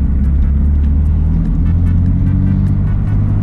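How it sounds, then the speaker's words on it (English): A 2017 BMW M3 Competition accelerates hard in M mode, a loud, close, sustained engine roar with a steady low rumble and a slight shift in pitch partway through, no talk. "Definitely more intense in M mode. Traction control still works and helps, but way faster acceleration."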